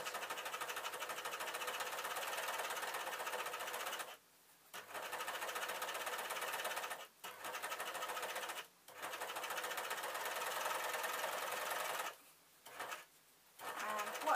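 An overlocker sews a rolled hem on swirly skater shirt fabric, a close, loud rapid mechanical chatter running in long bursts broken by several short pauses.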